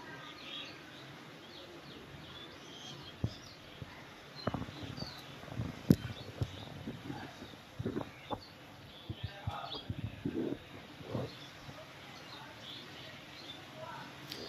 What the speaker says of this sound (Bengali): খুব সুন্দর পাখি ডাকতেছে